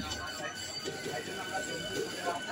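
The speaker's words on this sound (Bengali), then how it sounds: "তা এই ট্রেন ছেড়ে দিচ্ছে 9:40-এর ট্রেন।" A 9:40 train departing Domjur Road station in Howrah rumbles in a low, continuous rolling drone with faint wheel clatter, heard at a moderate distance with people talking over it.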